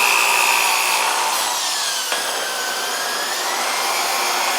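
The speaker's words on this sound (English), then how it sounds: "Good to have a reversible drill for that." A steady, loud high-pitched whine of a reversible power drill running continuously into an oak branch, with a brief click partway through.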